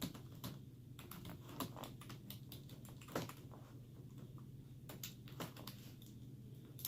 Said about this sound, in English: I'm just going to type a little message